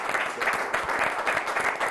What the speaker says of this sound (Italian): un applauso di nuovo a tutti i nostri ospiti